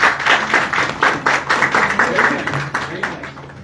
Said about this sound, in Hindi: मैम के लिए तालियां